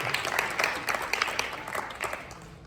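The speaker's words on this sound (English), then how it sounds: "one last round of applause for our panelists" An audience at a town hall on police accountability gives a round of applause for the panelists, moderately faint, dense clapping that gradually thins out.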